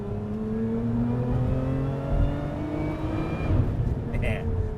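Supercharged car accelerating through a tunnel, a rising mechanical whine over engine and road roar, continuous and close from inside the cabin, with talking heard underneath.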